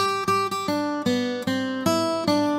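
Guitar notes played one after another, each ringing out with long sustain before the next is picked, a clean lead line of about seven sustained tones with no talking.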